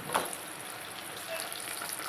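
Ginger frying in hot oil as a tempering for shukto, giving a steady soft sizzle that holds at an even level throughout, with a brief louder crackle near the start and no talking.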